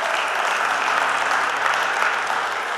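Sustained applause from an audience for Sassy, a dense, even wash of clapping filling the room throughout, fairly close and loud with no speech over it.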